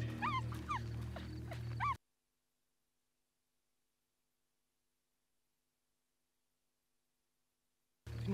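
A dog whimpers and yips in short, high, rising whines during the opening two seconds over a low steady hum, then the sound cuts to silence before a brief return at the very end.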